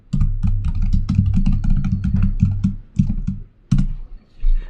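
Rapid keystrokes on a computer keyboard entering a git config command, a dense close-up run of clicks with brief pauses near the end.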